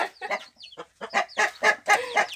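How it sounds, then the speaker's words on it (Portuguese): Egg-laying hens clucking in a clean coop, loud and close, with a run of rapid, uneven clucks and cackles and no talking. "As galinhas estão aqui botando."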